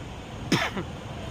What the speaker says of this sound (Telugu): దగ్గు వస్తుంది